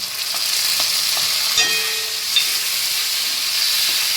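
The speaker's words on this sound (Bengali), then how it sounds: "এবার আমি আদা রসুনের পেস্টটা দিয়ে দিচ্ছি" Ginger garlic paste sizzling and frying with browned onions in a pan, a steady close hiss with a sharp stirring scrape partway through, no talk.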